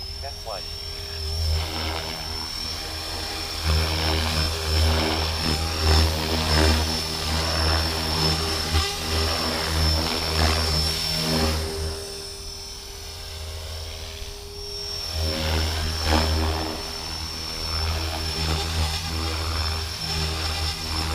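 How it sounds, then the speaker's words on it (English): A Blade 330s RC helicopter hovers and flies with a steady, loud rotor whine and drone that rises and dips slightly throughout, with voices talking over it. "Heli flies good."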